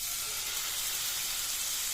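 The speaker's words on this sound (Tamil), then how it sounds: "இதில் நம்ம பீட் பண்ணி வச்சுருக்க அந்த மாவை சேர்த்துங்க" Batter hisses and sizzles on a buttered tawa while a puffed rice vegetable pancake cooks, a dense, bright, even hiss that holds steady and close throughout.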